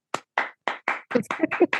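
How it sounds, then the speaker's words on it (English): Hand claps ring out in eight separate bursts, starting slow and spaced, then running quicker and denser as they go on. They sound close and clear, with no one speaking. "Someone is clapping for me."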